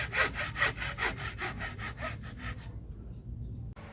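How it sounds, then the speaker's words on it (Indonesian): Rapid rhythmic rasping of sandpaper rubbed back and forth on wood, close and fairly soft, stopping abruptly near the end. "kita amplas menggunakan amplas kayu"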